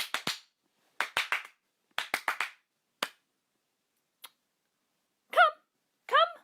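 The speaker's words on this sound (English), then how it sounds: "The Emperor slammed the book shut, and he clapped his hands" Bursts of hand claps, grouped in quick runs of two to four separated by pauses, crisp and close with no voice, followed by a couple of brief chirpy tones near the end.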